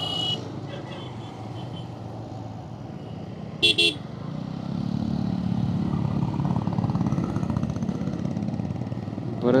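Heavy traffic on a highway service road heard from a motorcycle: a steady engine drone, passing vehicles, a brief horn toot, and the motorbike's engine rising in the second half.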